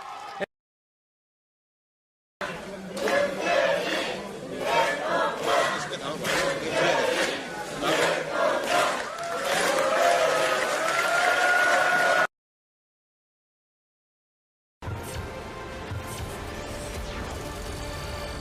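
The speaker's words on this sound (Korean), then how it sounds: "여기저기 큰 박수와 함께 커다란 환호성이 터져 나왔습니다" An election-night crowd bursts into loud applause and cheering, a long stretch of clapping and shouting broken by silent gaps, with a voice speaking over the later part.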